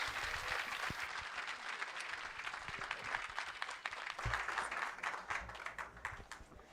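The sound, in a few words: applause as Nadine Karema walks onto the stage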